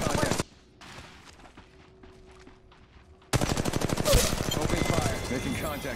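Automatic weapon fire in Apex Legends Mobile: a short burst, a quieter lull, then loud, rapid sustained shooting that continues to the end.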